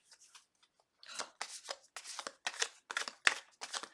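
Tarot cards are shuffled by hand in a quiet room: a few faint riffles, then a run of crisp, papery bursts in quick irregular rhythm, close up with no talking.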